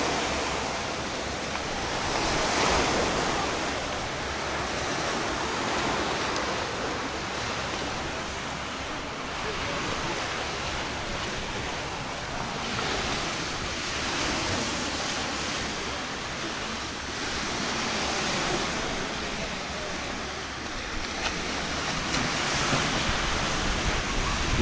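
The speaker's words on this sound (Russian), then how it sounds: "И вот мы уже попали с вами на пляж." Sea waves wash onto a beach in Pattaya with a steady, broad roar of surf and some wind buffeting the microphone, sustained throughout.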